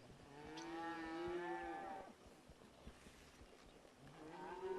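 A cow on a grazing pasture lets out a long, loud moo, then a quieter stretch with faint shuffling before another moo begins at the end.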